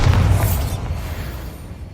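A Bombarda spell explosion in the Hogwarts Legacy game, a loud low boom that bursts at once and then rumbles and fades over about two seconds.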